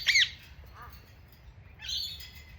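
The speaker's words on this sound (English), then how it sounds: "Your friends the lorikeets are here. I can hear them. I can't see them, but I can hear them." Lorikeets calling outdoors, two bursts of shrill screechy chirps a couple of seconds apart, fairly faint and at a distance, with no one talking.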